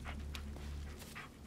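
A dog panting in the Blair Witch video game, quick breathy puffs with a faint whimper over a steady low game ambience, no talking.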